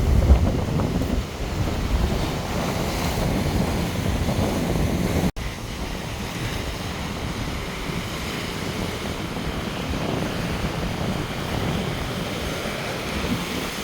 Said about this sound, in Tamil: இங்கே அலையில் பாருங்கள் இதில் எவ்வளவு சீற்றமாக காணப்படுது